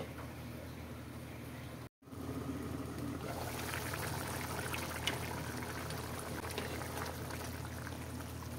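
Meat simmering in water in a covered pot gives a steady, soft bubbling hiss. It swells slightly after a brief cut and stays close and even throughout, with no speech.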